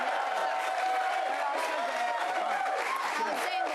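A studio crowd on a Super Bowl edition talk show cheers and murmurs steadily throughout, with someone talking over the noise.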